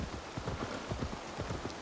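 Horse hooves clip-clop at a steady trot on a hard surface in the game Assassin's Creed Valhalla, a brisk rhythmic patter under a continuous wash of ambient noise.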